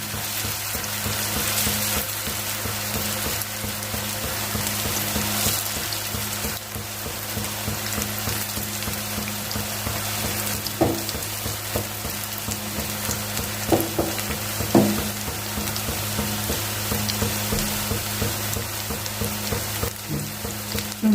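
Tapioca pakkavada deep frying in oil: a continuous close sizzle and crackle of bubbling oil across the whole stretch, with a low steady hum underneath and a few sharper clinks and pops toward the middle.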